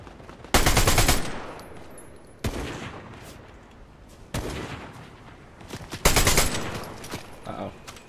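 Rapid bursts of gunfire from a sniper rifle in a Fortnite match: four loud, sharp volleys spaced a couple of seconds apart, each trailing off into a decaying echo, with no talk over them.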